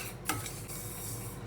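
White and black sesame seeds being roasted and stirred in a pan, a soft scraping stir with a brief clink near the start and a sharper metallic knock at the end, close and quiet.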